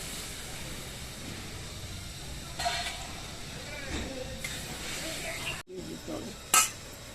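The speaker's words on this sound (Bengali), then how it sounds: "এবার আমি মশলাটা কষিয়ে নেবো ভালো করে।" Spice paste (masala) frying in a pan for a Bengali pabda fish curry gives a steady close sizzle with occasional scraping stirs, and a brief clatter near the end.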